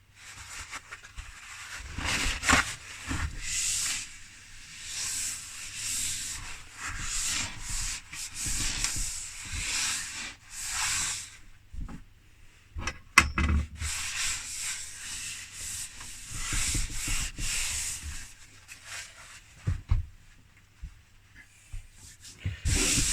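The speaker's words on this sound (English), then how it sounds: "move the screws out of the way and clean all of this off" Cloth rubbing grime off the surface of a desk during a strip-down of a Sharp MZ700 computer, a steady scrubbing and swishing in repeated strokes with brief pauses, close and fairly loud, no talking.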